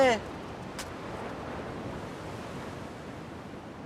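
Ocean waves break on the beach at Capbreton near the jetty and lighthouse, a steady, close, full-bodied surf roar that fills the whole stretch, with a brief voice right at the start.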